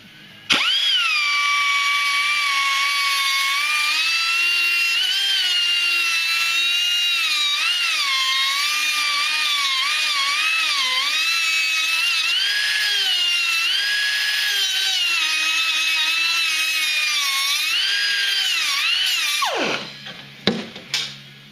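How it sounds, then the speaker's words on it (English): A die grinder whines steadily at high pitch for about twenty seconds, its tone wavering as it grinds the head off a metal rivet on an airframe, then spins down abruptly. "use a die grinder to grind the top of the rivet off"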